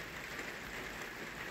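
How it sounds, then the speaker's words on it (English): Heavy rain pouring down on a wet, dismal day, a steady unbroken hiss of drops on surfaces that holds at an even loudness throughout, with no voices. "So it is absolutely peeing it down today. Happy days. We have rain."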